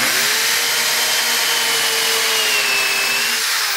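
A power screwdriver drives a screw into a wooden block on a homemade woodworking shooting board, giving a loud, steady motor whine with a slowly shifting pitch that runs unbroken for several seconds with no talk.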